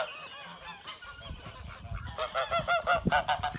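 A flock of geese on a goose farm honks loudly and repeatedly, the calls overlapping and growing denser and closer toward the end.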